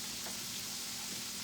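Ground beef browns in a pan for a taco pizza, giving off a steady, soft frying sizzle that runs without a break and has no talk over it.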